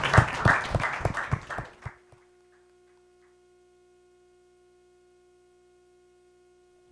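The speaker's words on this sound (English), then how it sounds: "I'd like everyone to join me in giving them a round of applause." A forum audience applauds its speakers with a brief burst of clapping that stops abruptly after about two seconds. Quiet electrical hum and faint ticks follow.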